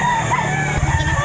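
Rooster crowing at an open-air Saturday chicken market behind SM City Lipa, Batangas, a single drawn-out crow close by over a background of other fowl and market noise.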